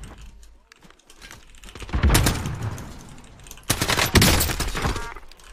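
Rapid gunfire in Call of Duty Warzone, with loud automatic bursts in the middle and near the end, preceded by softer game noise and light clicking.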